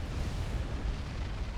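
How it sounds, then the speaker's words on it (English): Salvation artillery shells bursting in Supreme Commander, a dense continuous rumble of overlapping explosions with heavy low booms throughout, loud and steady with no clear gaps. "They spread out, deal lots of AoE explosions."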